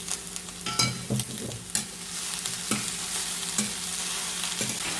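Leafy cheera greens curry stirred in a hot pan, spoon scrapes and clatters up front over a continuous soft sizzle, with no voices.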